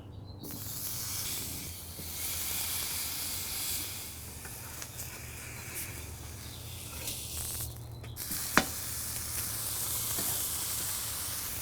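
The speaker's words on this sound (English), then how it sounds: "We're going to go ahead and sear this patty up" A frozen homemade McRib-style rib patty sears on a hot Blackstone-type griddle, giving a steady, even hiss and sizzle that runs throughout with one brief sharp click partway through.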